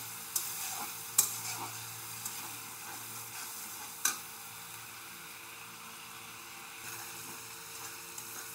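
Garlic and beaten sour yogurt stir-fried in a pan: a low, quiet sizzle with occasional sharp scrapes and clicks of stirring, and no talk.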